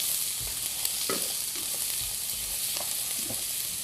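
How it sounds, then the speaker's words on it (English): Vegetables stir fry in hot oil over high heat, giving a constant close hiss of sizzling with occasional soft pops and light stirring taps, and no talking. "whenever you're stir frying, that is typically cooking at a higher heat"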